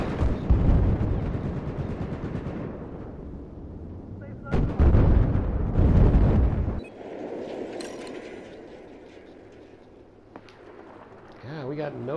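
Battlefield 4 gameplay gunfire and booming blasts, heavy bursts in two loud stretches, then quieter rattling shots in the distance, with a player talking briefly.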